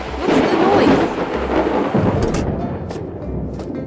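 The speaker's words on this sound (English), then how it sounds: "Thunder and lightning ahead!" Heavy rain pours down steadily while thunder rolls and rumbles through, loud and close, with sharp cracks and no voices.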